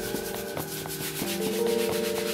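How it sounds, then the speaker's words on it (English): A brush scrubs back and forth over an Air Jordan 6 Infrared sneaker during cleaning, making close, loud rhythmic rasping strokes roughly three per second, with no talking. "Just kinda let the brush do the work."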